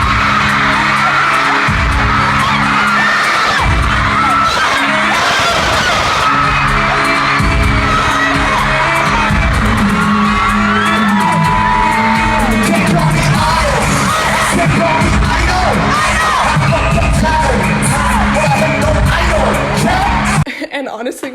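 A huge arena crowd at a concert screams and shrieks as the band takes the stage, a loud continuous wall of cheering with overlapping yells and thumping bass throughout.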